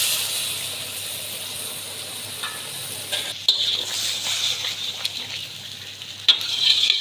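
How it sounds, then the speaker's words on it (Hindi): Chicken fried and stirred in a karahi over a high flame with tomatoes, giving a steady close sizzle and hiss with occasional scraping stir strokes and brief clatters of the spoon against the pan. "चिकन डाल के अच्छे से आपने इसकी भुनाई करनी है। हाई फ्लेम पे आपने रखना है चूल्हे को।"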